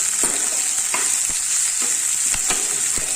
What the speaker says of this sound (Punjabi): ਪਿਆਜ਼ ਭੁੱਜਣਾ ਸ਼ੁਰੂ ਹੋ ਗਿਆ ਆ